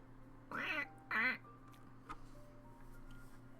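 Two short nasal quacks from a duck in the Lil Guardsman video game, close and clear, followed by faint background game sounds.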